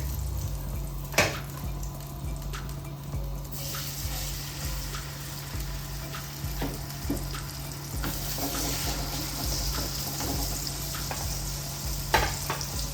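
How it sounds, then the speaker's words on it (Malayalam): Steady sizzling of fish frying in hot oil in a pan, a continuous crackling hiss with occasional sharper pops, close by and fairly loud, with no talking. "അപ്പോൾ ഇതെല്ലാം ഇനി വറുത്തെടുക്കാം."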